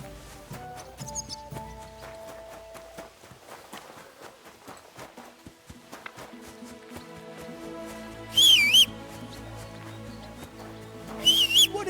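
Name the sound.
person whistling in the video game Kingdom Come: Deliverance II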